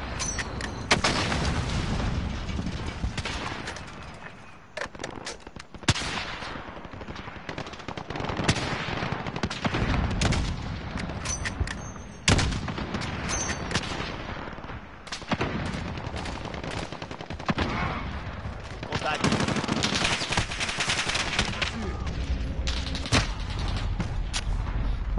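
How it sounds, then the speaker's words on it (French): Continuous automatic gunfire in a multiplayer shooter video game, dense rapid bursts and booming shots packed together for the whole stretch, loud and close with barely a pause. "Ouais, y a ton pote qui me tire dessus."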